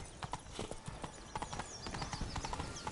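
Horse hooves in The Witcher video game: rapid, steady clip-clop of a trotting horse, moderately faint, continuing across the whole span with no talking.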